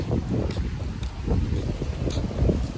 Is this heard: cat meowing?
no